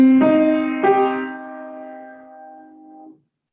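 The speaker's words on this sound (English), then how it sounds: "I have a minor triad, which sounds like this." A minor triad is struck twice in quick succession, apparently on piano, then left to ring and slowly decay for about two seconds before it stops abruptly. Moderately quiet and close, with no voices.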